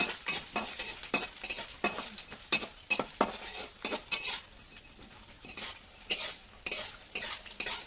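Chillies frying in oil in a pan, with a spatula clinking and scraping in quick repeated strokes over a steady sizzle, close up and with no voices.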